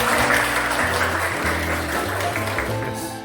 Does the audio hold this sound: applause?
yes